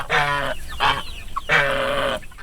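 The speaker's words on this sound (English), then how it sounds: "About 400 free-range chickens seek shade from the hot August sun." Loud, close squawking calls from free-range chickens on a poultry farm in three drawn-out bursts with a short cluck between, alone without talk.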